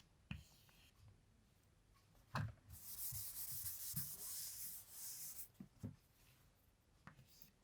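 A marker or chalk scratches out a chemical formula on a board in soft rubbing strokes, with sporadic taps between them and one longer continuous stretch of writing, close and quiet.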